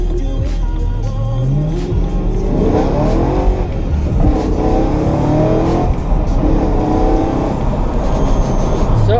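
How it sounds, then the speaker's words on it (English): BMW M3 E92 engine revving hard while driving, loud and close from inside the car, with repeated rising howls through the gears and brief dips between shifts, and no talk. "So we are driving my BMW M3, my new daily driver."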